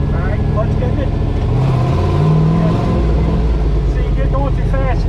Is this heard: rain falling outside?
no